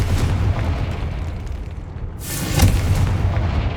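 A Confringo fire spell explodes in Hogwarts Legacy with a deep booming blast, the low rumble swelling and bursting about two-thirds through against continuous loud background rumble.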